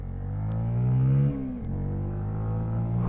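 A Benelli TNT 125 motorcycle engine pulls steadily in third gear, a close, loud droning hum that rises briefly in pitch, then eases and settles back to a constant tone.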